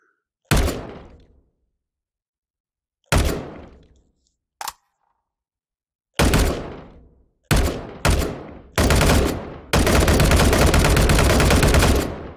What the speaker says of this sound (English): Okay, let's shoot something.